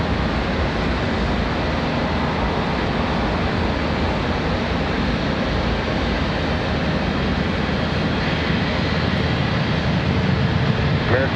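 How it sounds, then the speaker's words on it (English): An Airbus A321 airliner departing Charlotte airport gives a broad, steady jet roar that stays loud and continuous throughout, with no distinct breaks. "A321 on the way out."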